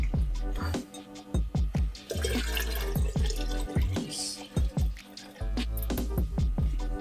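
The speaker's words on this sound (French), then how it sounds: "Maintenant, on va ajouter l'eau." Water pours into a kombucha mixture, a steady splashing stream with dripping, gurgling pulses that repeat through the run, close up and without talk.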